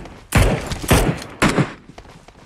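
Three loud, sharp gunshots from a PUBG Mobile match ring out about half a second apart, each a heavy close blast followed by a brief decaying tail.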